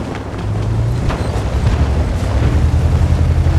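A tank rolls along in a video game, its engine giving a loud, steady low rumble and drone that grinds on without a break, close by and with no voices.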